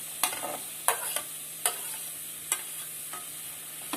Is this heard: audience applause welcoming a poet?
no